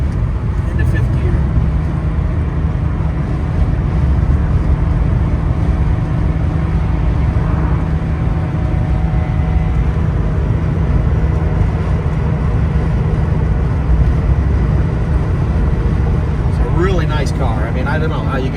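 A 1984 Porsche 911 Carrera Targa pulls at 4,000 RPM into fifth gear on a freeway, a steady drone of engine and road noise heard from inside the cabin, continuous and moderately loud with a faint voice near the end.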